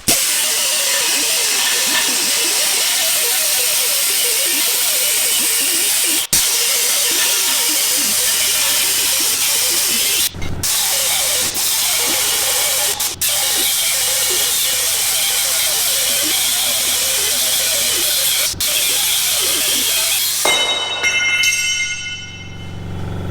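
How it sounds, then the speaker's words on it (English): An Ingersoll Rand air die grinder runs with a steady, loud high-pitched hiss and whine for about twenty seconds, broken by a few brief clicks and ending in a shifting, sputtering tone as it winds down. "I'm going to do the same test with a higher end die grinder. This one's an Ingersoll Rand"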